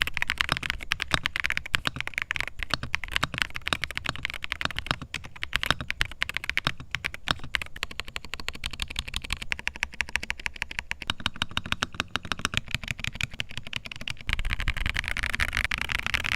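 Fast continuous typing on a Redragon Behemoth K724 PRO 75% mechanical keyboard gives dense clacky keystrokes, close up and steady, with no voices.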